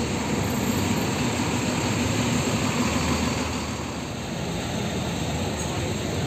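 A Sinar Jaya suite class bus with a Hino engine drones with a steady, even engine rumble and broad road noise from inside the cabin, continuous and unbroken.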